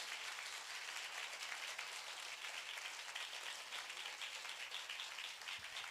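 A church congregation claps steadily and loudly through a Hindi worship service, the dense applause continuous from start to finish with no voices rising above it.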